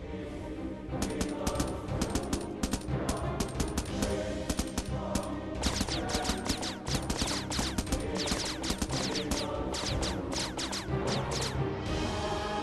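Sustained automatic gunfire from the visual novel game Anonymous;Code, a dense rattling stream of shots firing continuously and loudly for the whole stretch, with no speech over it.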